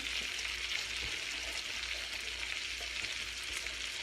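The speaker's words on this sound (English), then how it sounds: "we bring over our tomatoes, dump those right over" Tomatoes and onion frying in a pan for a bacon and shrimp Alfredo, a loud continuous hiss and sizzle with a few light stirring scrapes, no voices.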